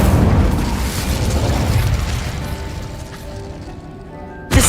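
Rumbling spell blasts and fiery bursts from a Hogwarts Legacy battle fill the stretch, loud and continuous, trailing off before a sharp new impact at the end.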